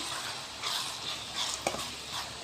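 Mango pickle masala frying in hot oil in a pan for thokku, a steady soft sizzle with faint stirring scrapes, one sharp clink of a utensil near the end, no voices.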